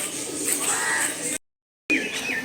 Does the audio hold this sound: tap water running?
no